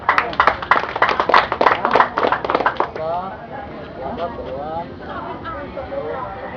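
Applause at a fraternity induction ceremony, a few seconds of brisk, fairly close clapping from a small group that stops abruptly, followed by someone speaking.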